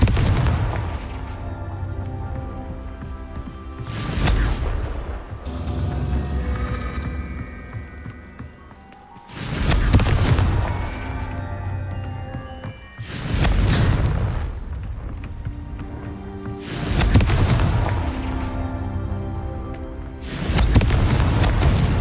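Confringo explosive spell blasts in a Harry Potter video game, a series of loud booming bursts at irregular intervals, each surging and then decaying over a dense rumbling game soundscape.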